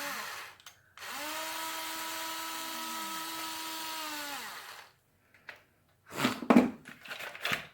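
A small power driver whirs steadily for about four seconds while backing a screw out of a FAST PJ helmet mount, the close, buzzy tone dropping in pitch as it winds down, followed by a few handling knocks.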